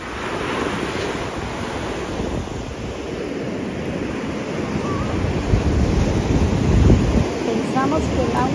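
Ocean surf washes steadily onto a beach, a continuous loud roar of breaking waves with wind buffeting the microphone and no talking.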